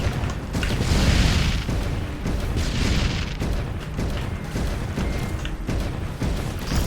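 An antimatter bomb detonates in the video game X-Morph Defense, a loud, sustained rumbling boom with rolling bursts layered over a deep roar that keeps churning for several seconds.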